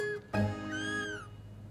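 A polydactyl tabby kitten gives a single clear, tonal meow lasting about a second. A brief thump comes just before it, and the room is otherwise quiet.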